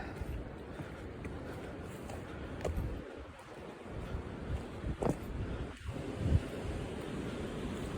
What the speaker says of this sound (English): you can probably hear there's plenty of wind